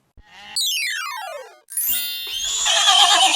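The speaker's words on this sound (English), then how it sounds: "Horse," A horse whinnies loudly with a long descending, quavering neigh, followed after a short pause by a snorting, breathy rumble.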